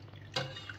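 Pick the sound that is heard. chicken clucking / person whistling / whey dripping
whey dripping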